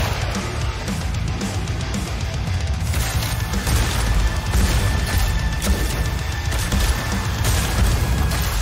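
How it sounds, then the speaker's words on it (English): A chaos explosion in Metal Hellsinger, dense booming and crashing impacts layered over loud, continuous heavy combat sound. "Even with the chaos explosion, he survived it."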